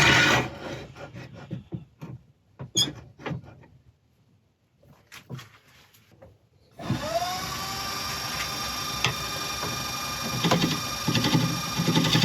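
A wood lathe turns a cat-shaped resin inlay piece, opening with scattered knocks and handling clatter, a short quiet gap, then the lathe spinning up into a steady, loud whir with a rising pitch that holds to the end.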